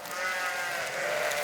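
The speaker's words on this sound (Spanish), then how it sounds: "Las ovejas pueden ir saciando su hambre con las hierbas que crecen en los márgenes del recorrido." A flock of sheep on a transhumance drive along a road bleats in a dense, continuous chorus of overlapping calls, steady and moderately loud.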